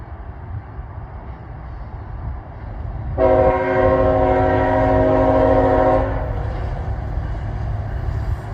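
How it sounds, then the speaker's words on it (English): A freight train led by two locomotives rolls past on the tracks, a loud continuous rumble with a sustained multi-tone horn blast lasting about three seconds in the middle, the passing roar continuing after it stops. "Alright, next train coming in."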